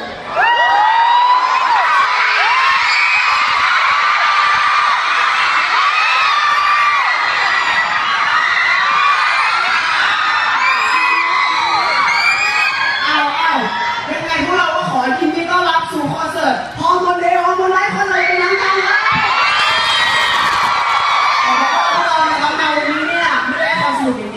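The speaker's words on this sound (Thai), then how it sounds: "ช่วยกรี๊ดดังๆแบบเมื่อกี้" A large crowd screams and cheers loudly at a Thai concert and talk show event, high-pitched shrieks and whoops rising and falling in waves, sustained for a long stretch.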